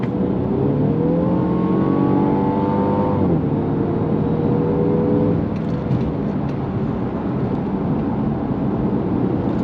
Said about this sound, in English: It is a bit fun when putting your foot down in Sport Plus mode